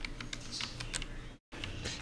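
A computer keyboard clatters with quick, soft, irregular keystrokes close by, with a brief silent break partway through and no voices.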